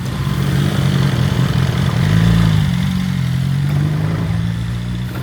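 A motorcycle engine runs steadily nearby on a Goa ride, a loud continuous low rumble with a slight rise in pitch midway, no talking over it.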